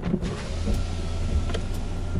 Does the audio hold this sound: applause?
no